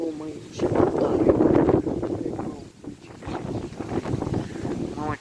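Strong storm wind gusting at the onset of a heavy squall near the village of Măriuța, a rough, fluctuating roar buffeting the microphone throughout while voices talk over it.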